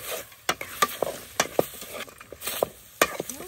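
Red ant eggs are roasted in a pan and stirred with a utensil, giving sharp scraping strokes roughly every half second over a faint sizzle, close and without talk.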